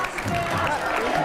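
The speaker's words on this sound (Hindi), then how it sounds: "जोरदार ताली एक बार फिर से कन्हैया जी के लिए" Audience applause in a studio as a guest is welcomed: dense, steady clapping from a crowd filling the whole moment, fairly loud and continuous.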